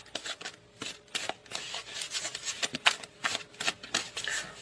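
Tarot cards are shuffled and drawn from a deck, giving close, fast bursts of riffling and flicking card slaps in uneven clusters, with a few faint words murmured now and then.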